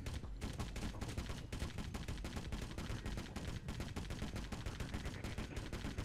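Steady automatic gunfire from the zombie video game Dead Rivals rattles on without letup, rapid repeated shots dense and close with only a brief break near the start.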